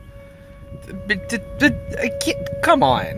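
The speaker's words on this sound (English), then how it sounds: "the tornado sirens are going off" A steady, droning tornado siren wail holds in the background outside a Lowe's store while a person speaks over it.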